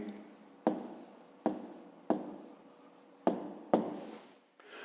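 Handwriting on paper for a school geometry exercise, five sharp pen taps each followed by a short scratching stroke, close and isolated.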